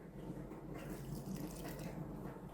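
Liquid pouring in a steady stream into flour for pie crust dough, a continuous soft trickling hiss, close but quiet.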